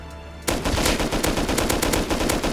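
Rapid automatic gunfire in the modded PvPvE survival game Rust, a loud, close, continuous burst of closely spaced shots that starts abruptly after a brief quiet moment and runs to the end without talk.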